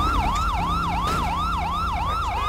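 A police car siren in GTA 5 wails continuously up close, rising and falling in a quick regular sweep, loud and alone without any talk.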